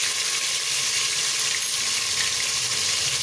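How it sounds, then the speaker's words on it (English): Ginger garlic paste sizzles in hot oil with whole cloves for a chicken curry, making a steady, dense hiss throughout with no pauses or talk. "And once that heatens up, I'll put in a spoon of ginger garlic paste."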